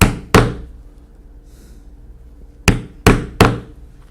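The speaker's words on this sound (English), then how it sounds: "we'll punch the holes to 1/8 inch in each end as we've marked them" Hole punch struck through leather for chaps: one sharp blow, then three more in quick succession after a pause, each a crisp close thwack with a short ringing tail, no voices.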